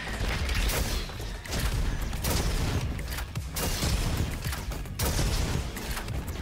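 Rapid bursts of weapon fire from a flare gun in the robot shooter game Roboquest, loud and dense, with repeated blasts and booms layered over continuous combat noise.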